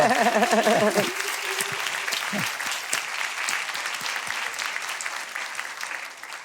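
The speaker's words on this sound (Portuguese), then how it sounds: "Vamos Thierry aplaudir a Norma Thierry, coisa boa." An audience at a live talk show applauds steadily after a short burst of speech, the clapping dense and moderately loud, fading slightly toward the end.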